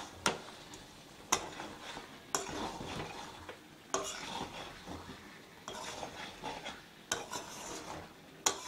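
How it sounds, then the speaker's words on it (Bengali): Chicken korma is stirred in a pot with a metal spoon, bringing sharp scrapes and clanks against the pot at intervals, each followed by soft sizzling and bubbling, close and without talk. "ভালো করে নিচটা নেড়ে দিচ্ছি।"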